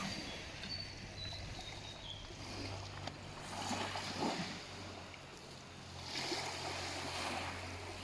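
Gentle sea waves wash along a beach shoreline during breakfast, a soft continuous surf with swells rising and falling, faint and without talk.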